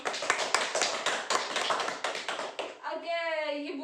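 Group of women clapping hands during a child-protection training session, a dense burst of overlapping claps for almost three seconds, then fading into a voice speaking at the end.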